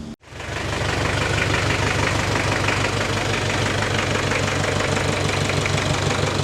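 An antique tractor engine runs steadily after a brief cutout, a loud, continuous chugging idle with a rhythmic knock, close by and alone.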